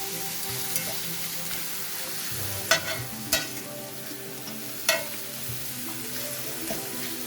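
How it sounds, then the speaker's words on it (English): Mushrooms sauté in a pan, a steady close sizzle broken by a few sharp scraping stirs of a utensil against the pan, with no talk. "Mix this around in the pan. Let it cook a little bit with the mushroom."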